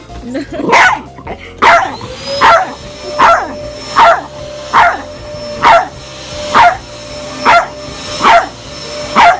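A small dog barks in a steady, repeated rhythm about once a second, loud and close, at a running Hoover vacuum cleaner whose constant hum and whine sit beneath the barks.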